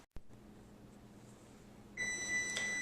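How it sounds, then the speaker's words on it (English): After a quiet stretch with a faint hum, a high electronic beep sounds near the end, steady and shrill, alone without voices. "There goes my timer"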